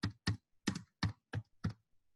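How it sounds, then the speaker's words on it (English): Keystrokes on a computer keyboard, six distinct clacks tapped in an uneven rhythm with quieter clicks between, close and clear with no talking. "I am typing here"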